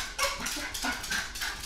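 A pet dog barks and whimpers in short bursts close by, several rough yelps over a second and a half with a person speaking around them.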